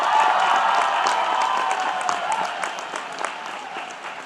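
A graduation ceremony audience applauds steadily, a dense wash of clapping with a few cheers that gradually thins toward the end.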